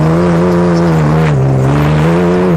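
A Subaru Baja on a race track, its engine droning loud and close with a steady pitched hum that dips and rises briefly as the driver downshifts, with no talk.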